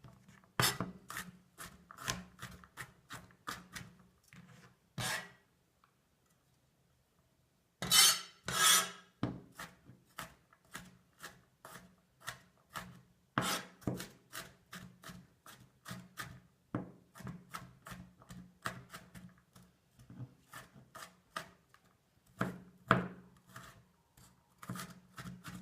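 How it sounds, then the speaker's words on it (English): Garlic cloves are roughly chopped with a knife on a board, giving a series of crisp close taps in quick irregular runs, with a brief pause partway and a short scraping swipe. "Roughly chopped."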